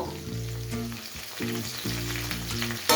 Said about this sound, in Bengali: আর দিচ্ছি বেশ কিছু কেটে রাখা কাঁচা লঙ্কা, সেই সাথে বেশ কিছু কারি পাতাও অ্যাড করে দেব।